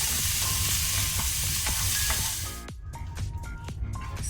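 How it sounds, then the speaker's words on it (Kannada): Chopped sausage pieces fry in a pan over low to medium flame, giving a loud, dense sizzle that drops suddenly partway through, leaving softer crackles and a few scraping stir sounds. "ಪ್ಯಾನಿಗೆ ಡೈರೆಕ್ಟ್ ನಾನು ತುಂಡು ಮಾಡಿದ ಸಾಸೇಜನ್ನು ಹಾಕ್ಕೊಳ್ತೇನೆ. ಲೋ ಟು ಮೀಡಿಯಂ ಫ್ಲೇಮಲ್ಲಿ ಫ್ರೈ ಮಾಡ್ಕೊಳ್ಳುವ."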